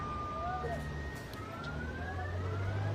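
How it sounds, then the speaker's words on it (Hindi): An ambulance siren wails and sweeps through a noisy street scene, moderately distant, with a steady low rumble of traffic and crowd murmur underneath. "एम्बुलेंस की सायरन की आवाज आप सुन सकते हैं"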